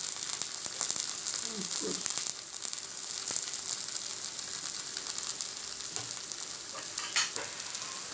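Plantain slices fry in oil in a pan with a steady, close sizzle and hiss that runs the whole time, with a few soft stirring scrapes.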